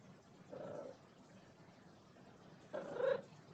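A pet cat gives two soft meows roughly two seconds apart, the second a bit louder and longer, faint and close against quiet room noise.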